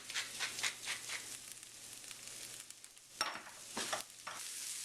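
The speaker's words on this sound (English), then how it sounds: "Now that I have the onions starting to saute" Chopped onions sautéing in olive oil with salt and cracked black pepper, a soft steady sizzle broken by intermittent stirring scrapes, close and alone.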